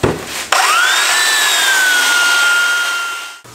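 Belt sander fitted with an 80 grit belt flattening a table top on a mechanics workbench, a steady loud whining drone with a rising motor pitch as it spins up, running continuously for a few seconds before cutting off.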